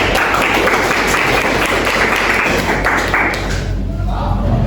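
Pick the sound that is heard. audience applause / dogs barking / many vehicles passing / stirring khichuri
audience applause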